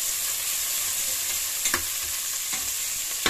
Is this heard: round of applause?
no